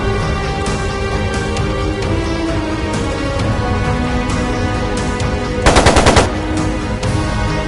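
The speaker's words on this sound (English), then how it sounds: "It sounded like a machine gun." Sustained machine gun fire from a Trails of Cold Steel II battle scene, a steady dense rattle of rapid shots through the whole stretch, loud and close, with a sharper, brighter burst of fire near the end.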